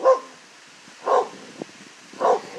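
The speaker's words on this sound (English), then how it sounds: "Who are you barking at?" Three single dog barks spaced about a second apart, fairly close, with quiet pauses between them.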